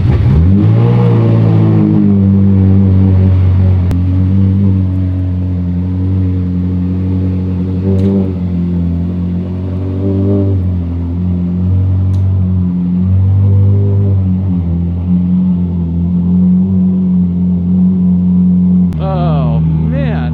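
A Ferrari 458 with an aftermarket exhaust idles low and throaty, close and loud, with revs rising at the start and again near the end as it is driven out.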